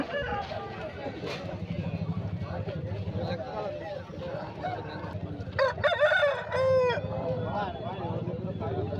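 A nine-to-ten-month-old Kakitega rooster crows loudly nearby amid a busy outdoor market hubbub of voices and clucking chickens at Rayachoti, Kadapa district.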